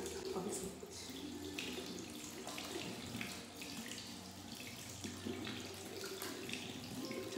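Tap water runs steadily into a bathroom sink during a morning skincare routine, a continuous close splash with a faint voice under it.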